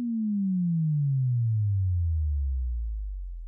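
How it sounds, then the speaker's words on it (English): A pure sine tone from a Dexed Yamaha DX7-emulating software synth glides slowly downward in pitch over about three and a half seconds, smooth and steady, alone. "that would make this pretty usable for those kind of sine wave drop sounds just by programming this in"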